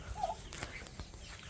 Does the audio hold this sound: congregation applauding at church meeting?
no